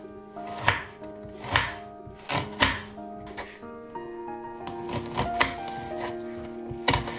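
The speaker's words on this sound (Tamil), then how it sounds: "ஒரு வேலை அப்படி நீங்கள் மற்ற டிசைனில் வெட்டுறேன்டா இந்த டிசைனில் வெட்டி பாருங்களே" A knife chops beetroot on a cutting board for a rainy-day beetroot curry, with sharp close thuds at an irregular pace over a steady background hum.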